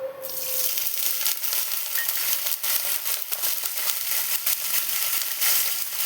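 Water poured into a hot pan of frying five-spice and fennel seeds for sweet amla pickle: an immediate loud, dense sizzle that holds steadily for several seconds, close up, with faint stirring clicks and no talk.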